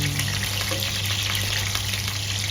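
Onions sizzle and fry steadily in a pan for humba na manok, a continuous close hiss with a low steady hum beneath and no talking.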